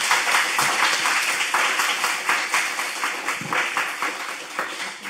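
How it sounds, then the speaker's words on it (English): An audience at a panel discussion claps steadily for several seconds, dense scattered hand claps blending into a continuous wash of applause. "Let's give them a round of applause."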